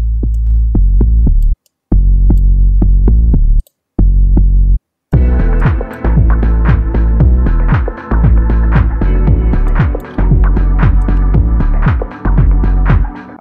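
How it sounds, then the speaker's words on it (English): Distorted synthesized bass line in a moody house beat throbs in loud, deep phrases, first sparse with gaps, then denser and grittier with rapid repeating hits. "I want to add some distortion to the bass just to let it cut through the mix a bit more"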